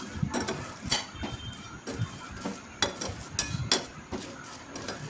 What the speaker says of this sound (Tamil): நம்ம சும்மா சிம்மில் வச்சுட்டு லைட்டாக வறுத்தாலே போதும்